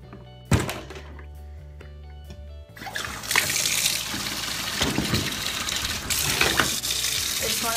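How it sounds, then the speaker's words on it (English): Water poured into a container of bleach over seashells, beginning with a thunk and then a loud close rushing, splashing pour that runs continuously to the end. "I'm gonna have to dilute it a little bit with water because it doesn't cover the top"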